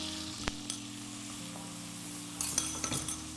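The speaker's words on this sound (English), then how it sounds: "Right, give that a good stir. Yeah, and I see I'm using a wooden spoon." Chopped onion sizzling in melted butter while a wooden spoon stirs it, a steady close fry with a couple of knocks and scrapes of the spoon against the pan, no talking.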